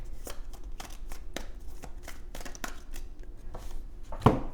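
Tarot cards are shuffled in a run of quick riffling, flapping bursts, close and fairly loud, ending in a sharper snap near the end.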